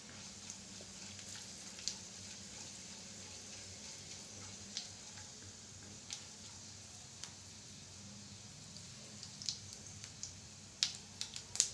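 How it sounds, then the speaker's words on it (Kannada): Two broken dried red chilies fry in hot oil for tempering, a faint, steady sizzle with small crackles and pops that grow more frequent toward the end. "ಎರಡು ಒಣಮೆಣಸಿನ್ಕಾಯಿನ ಮುರಿದು ಹಾಕೊತಾ ಇದ್ದೀನಿ"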